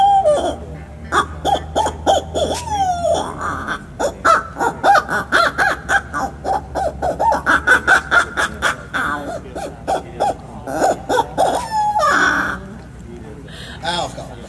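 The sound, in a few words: person imitating a barred owl call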